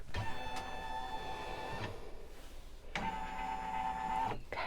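An embroidery machine runs its outline trace around the design area for a bicycle-with-hearts pattern, giving two bursts of steady motorized whirring with tonal hum, separated by a short pause, close and fairly loud with no talking.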